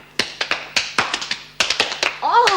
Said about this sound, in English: Let's give the new governor a little clap.